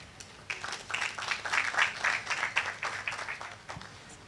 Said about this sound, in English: Let's give Daktari another round of applause.